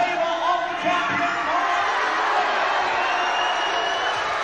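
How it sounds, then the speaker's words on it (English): A boxing crowd in an arena reacts with displeasure after a stoppage win, a steady, dense roar of many voices jeering and shouting at a distance, with no single voice standing out. "The crowd don't like that too much"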